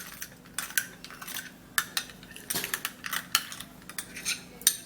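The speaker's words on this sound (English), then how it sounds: "stirring it and mixing it up together" A utensil stirring and mixing rice powder and egg in a bowl, producing irregular clinks and taps against the bowl, close and fairly crisp, with no talking.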